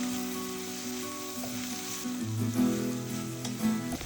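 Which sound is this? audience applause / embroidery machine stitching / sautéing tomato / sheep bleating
sautéing tomato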